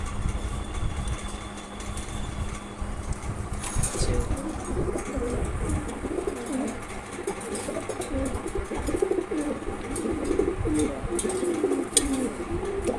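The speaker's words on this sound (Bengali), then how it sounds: "দেখেন এটা হচ্ছে নট কবুতর, খুবই সুন্দর" Pigeons in a pigeon loft giving low rolling coos in repeated bursts over a constant engine-like hum, the cooing growing more prominent in the second half.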